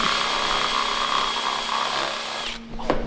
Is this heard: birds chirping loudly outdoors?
no